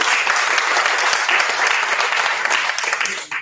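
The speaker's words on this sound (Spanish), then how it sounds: "Vamos a darle un fuerte aplauso a este grupo que sigue con nosotros también." A dense wash of audience applause for a group's 20th anniversary, loud and steady throughout before tapering slightly at the very end.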